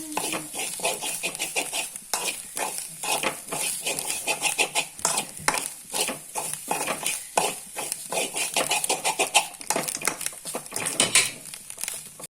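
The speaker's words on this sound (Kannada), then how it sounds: "ತೆಂಗಿನ ತುರಿ ಆದಷ್ಟು ಒಳ್ಳೆ ಹುರಿಬೇಕು." Grated coconut roasting in a pan for Mangalorean chicken gassi, stirred with a spatula in quick, repeated scraping strokes against the metal, close and steady with a faint sizzle beneath.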